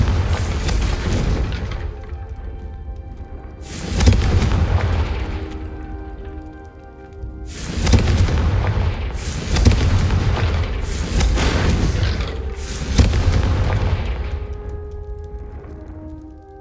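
Repeated Confringo fire-spell explosions in the Hogwarts Legacy video game, five loud booming blasts a few seconds apart, each with a crackling rumbling tail, over steady game background noise and no talking.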